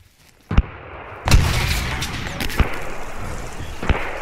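A frag grenade goes off during a military training operation with a sharp loud blast, preceded by a short thump and followed by scattered distant gunshots and pops.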